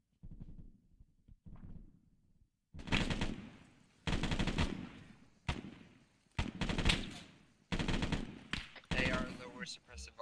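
Bursts of machine gun fire in a military shooter game, several loud, sharp volleys in quick succession with short gaps between them.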